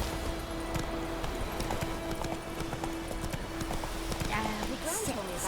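Roach, the horse in The Witcher 3 video game, trots with steady rhythmic clip-clopping hooves over a constant ambient drone, ending in a brief whinny, with speech heard alongside.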